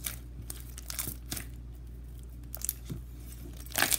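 Clicky slime squished and worked by hand, giving faint crackling clicks and small pops in irregular bursts with a louder crunch of clicks at the end.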